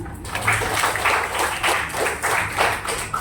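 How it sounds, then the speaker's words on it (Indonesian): A classroom of pupils claps together during a science lesson on sound, a steady run of brisk, even hand claps filling the room at moderate loudness. "Bagus, tepuk tangan."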